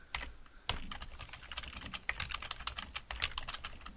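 Keys clatter in quick, uneven bursts on a computer keyboard, close and clear, with short pauses between runs while a blog address is entered, and no voices over the clicking.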